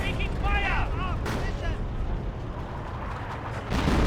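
Artillery barrage in the World War II strategy game Company of Heroes, heavy booms and rumbling impacts layered with gunfire and battle noise, loud and continuous, with a voice talking over the action.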